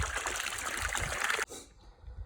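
Water pumped up from a borehole well gushes and trickles in a steady close flow, then abruptly drops to a quieter, weaker dribble near the end.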